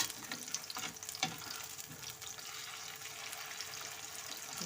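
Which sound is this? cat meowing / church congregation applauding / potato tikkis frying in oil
potato tikkis frying in oil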